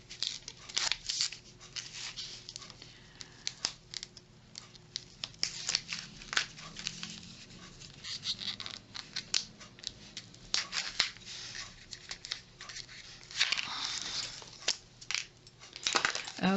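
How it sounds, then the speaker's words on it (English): Backing is peeled and scraped off adhesive tape for a handmade card kit, heard as close, irregular crackling and ticking bursts of plastic film and paper over about sixteen seconds, with a few faint murmurs. "I always need my little sticker tool to get this backing off"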